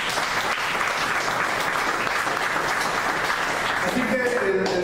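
A church congregation gives sustained, dense applause, loud and even throughout, with a voice starting to speak near the end.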